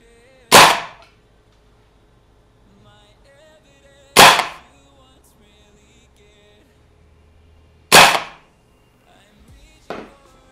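A VFC SR25 gas blowback airsoft rifle fires three loud, sharp single shots at roughly four-second intervals, with a fainter click after the last shot.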